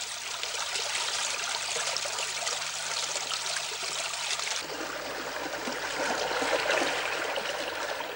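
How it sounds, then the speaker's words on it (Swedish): Water flowing steadily into a drainage tunnel and swirling in a whirlpool that pulls leaves down, a continuous close rushing and trickling wash that shifts in tone partway through. "När vattnet sugs ner i tunneln blir det en virvel som drar med sig löv."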